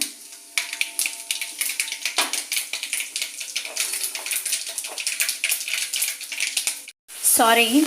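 Mustard seeds and cumin sizzling in 2 to 3 tablespoons of hot oil in a pan, crackling and popping densely up close, then a brief hush and a clatter at the end.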